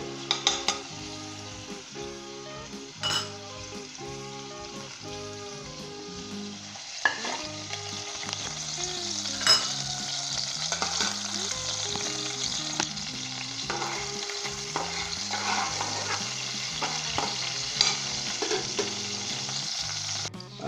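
Steady sizzling of garlic and ginger frying in hot oil in a pan, with occasional stirring scrapes and clinks, while soft music plays underneath.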